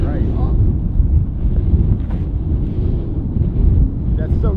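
Strong, gusty wind buffets the microphone outdoors on a golf course, a loud, continuous low rumble with faint voices barely audible beneath it.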